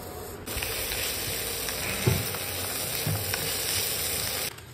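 Potatoes drop into a hot pan with onions and peanuts and fry, giving a steady bright sizzle with a few louder bursts as they settle in the oil.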